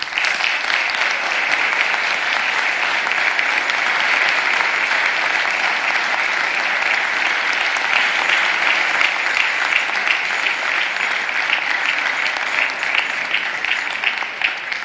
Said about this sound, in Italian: noi vi facciamo l'applauso,